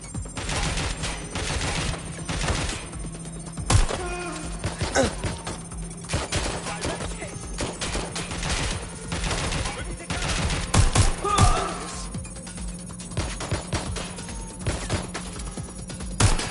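Gunfire in the Watch Dogs video game, with rapid bursts of shots cracking in clusters over the whole stretch, loud and close, with scattered game sounds between the volleys.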